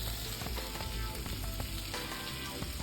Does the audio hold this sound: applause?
no